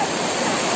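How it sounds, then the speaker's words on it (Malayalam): A rainy-season waterfall pours in a steady, dense roar of rushing water, loud and close, with no pause over a very short stretch. "മഴക്കാലത്തെ ഒരു വെള്ളച്ചാട്ടമാണ് കേട്ടോ"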